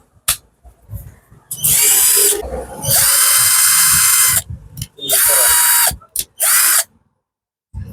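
A Total 12V cordless battery drill runs in several loud, close bursts of varying length, whirring up and stopping, with brief clicks and handling noises between the runs.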